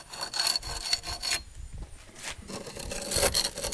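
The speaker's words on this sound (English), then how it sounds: "just start scraping as much of the loose stuff off as I can" Loose old finish is scraped off a wooden shelf in a series of close, rough rasping strokes, each a short gritty burst with small gaps between them.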